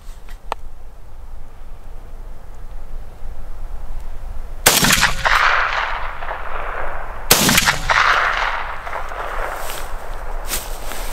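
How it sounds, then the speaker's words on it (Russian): Two loud shotgun blasts ring out a few seconds apart, firing Silvershot 32 g and Azot Energy 36 g shells at a 40-metre range, each followed by a long outdoor echo, with quiet background between shots. "В левую буду стрелять сильвершотом 32 грамма. В правую 36 азот энерджи."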